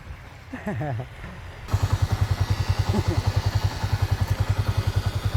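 A motorcycle engine idles with a rapid, even thumping putter, close by, after a brief moment of talk at the start.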